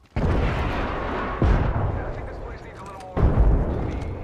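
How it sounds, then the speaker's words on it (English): Grenade blasts go off in an online shooter game, three heavy booms in quick succession, each followed by a rumbling tail, loud and close. "Grenade!"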